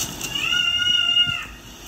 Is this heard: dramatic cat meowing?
yes